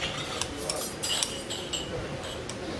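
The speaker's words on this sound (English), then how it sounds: "We're just going to mix it really" A spoon scrapes and clinks against a bowl while chicken salad is stirred with yogurt, a steady run of soft rubbing and light taps close by.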